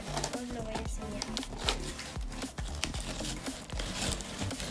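An Apple product package is unboxed up close, its wrapping crinkling and rustling in busy, uneven bursts with small taps and scrapes mixed in.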